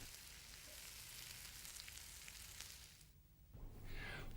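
Food frying in a pan gives a steady, dense sizzle that runs evenly for several seconds, briefly thins, then returns a little louder, with no voices.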